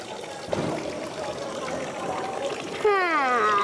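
Cold water running from an outdoor fountain in Zürich while hands are washed under it, a steady splashing trickle. A brighter, louder flow and tone sweeps come in near the end.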